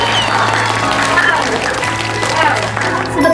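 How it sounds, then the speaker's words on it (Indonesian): A sharing-session audience breaks into steady, sustained applause, clapping loudly and evenly throughout while a voice talks over it. "Aplaus dulu ya."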